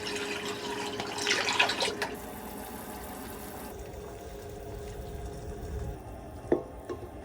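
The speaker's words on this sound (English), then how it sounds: "And in goes our water." Water poured into a pot inside a camper van, a quiet splashing stream near the start, followed by faint trickles, clinks and low background hum.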